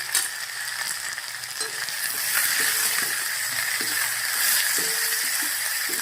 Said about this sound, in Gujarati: ભીંડાની લાળ બળે ત્યાં સુધી આપણે તેલના અંદર ભીંડા શેકી લેવાના છે